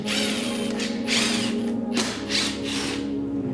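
A ratchet works bolts loose on a Mk7 Golf R, making rapid clicking bursts in short repeated pulls over a steady mechanical hum, close by and without speech.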